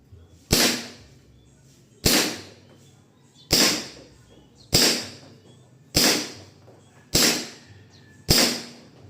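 SSP5 airsoft pistol firing .25 g BBs, seven sharp single cracks spaced about a second and a half apart, each loud and close with a brief hissing tail.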